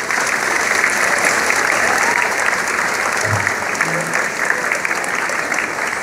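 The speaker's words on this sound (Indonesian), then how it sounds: "Tepuk tangan untuk Bapak Wali Kota kita sekarang." Crowd applause for the mayor at an outdoor city anniversary ceremony in Tangerang, a sustained even roar of many hands clapping with a brief low voice partway through.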